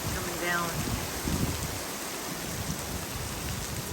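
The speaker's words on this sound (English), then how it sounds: "you could see the rain by the light coming down." Heavy rain pours steadily during a nighttime rainstorm, a dense continuous hiss with low rumbling texture underneath, holding at an even, fairly loud level for the whole stretch.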